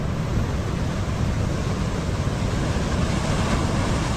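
High surf pounding a beach on Kauai, a loud, unbroken roar of breaking ocean waves close by, with no voices.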